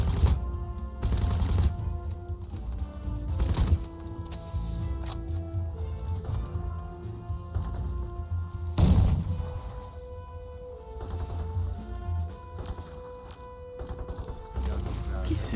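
Gunfire in the video game Crysis: scattered shots and short bursts ring out over a rumbling game soundscape, with a heavy blast near the middle while a player talks intermittently.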